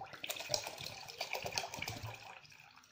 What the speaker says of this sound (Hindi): अराउंड 250 ml तक हम इस कंटेनर में पोर कर देंगे